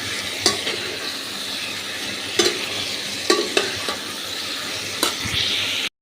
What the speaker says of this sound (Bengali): করে ভেজে নিয়েছি সয়াবিনটা আর আলুটা